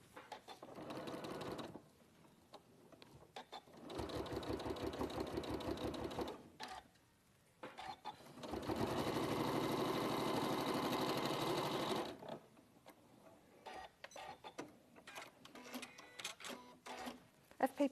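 A sewing machine stitches a design in bursts, with two long loud runs of rapid mechanical stitching separated by pauses, while people talk in between and over it at a live sewing session.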